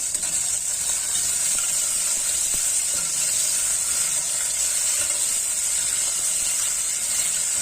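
A piece of butter hits a hot pan of summer squash stew, producing a loud, even hiss and crackle that holds steady and close for several seconds, without any speech.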